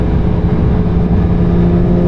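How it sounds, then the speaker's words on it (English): A 2022 Porsche 911 GT3 of the 992 generation, its six-cylinder engine revving hard and loud, a steady, close, continuous roar that fills the whole stretch without a break. "Oh, that 6-cylinder sounds so nice."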